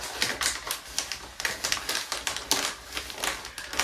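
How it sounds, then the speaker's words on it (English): A Dymo label writer prints thank-you stickers, making rapid, close, clattering mechanical ticks in quick uneven bursts with no talking. "my thank you stickers on my label writer, my Dymo label writer."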